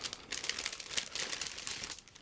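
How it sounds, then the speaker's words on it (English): A resealable plastic bag holding parts for a 1/35 scale WWII US Army kitchen truck model kit is opened, giving continuous close crinkling and rustling of thin plastic for a couple of seconds with no talking. "the parts for the truck are supplied in the separate plastic bag. So again, it's a resealable plastic bag"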